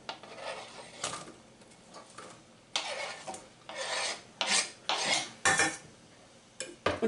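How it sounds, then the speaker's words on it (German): Beetroot and garlic rubbed against a coarse kitchen grater while making borscht, close up: bursts of rough rasping strokes in uneven groups with short pauses between them, and no talking. "die rote Beete und den Knoblauch, die reibe ich auf der groben Reibeschicht"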